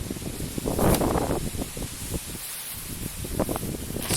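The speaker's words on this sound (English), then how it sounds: "It's still windy, unfortunately." Wind gusts and rustling leaves at an outdoor pumpkin patch on a chilly day, a steady broadband whoosh with scattered crackling rustles, swelling louder around the first second and then settling into a continuous blustery rush.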